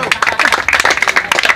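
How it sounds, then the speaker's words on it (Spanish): A crowd at a freestyle rap battle claps loudly in quick, uneven bursts, close and energetic, with cheering mixed into the clapping. "¡Aplausos!"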